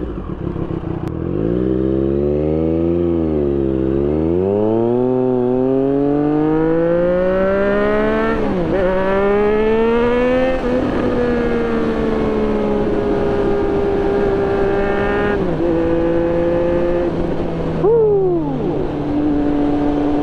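A 2024 Triumph Street Triple fitted with an aftermarket exhaust pulls hard under throttle, its loud engine note climbing through the gears with rising and falling pitch over about twenty seconds of steady riding.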